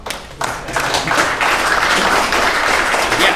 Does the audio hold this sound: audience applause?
yes